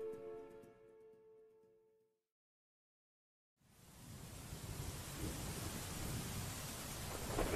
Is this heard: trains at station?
no